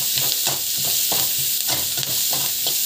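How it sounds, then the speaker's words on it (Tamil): Egg bhurji seasoned with pepper powder is stir-fried in a pan, giving a steady close sizzle broken by a regular rhythm of spatula scrapes and stirring strokes, with no voices. "நல்லா வந்து வதக்கிக்கோங்க."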